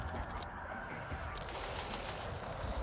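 Full-auto M16 rifle fire in Battlefield 6, fitted with a suppressor, cryo barrel, angled grip and 30-round magazine, giving a dense, steady stream of muffled shots with no gaps, loud and close throughout.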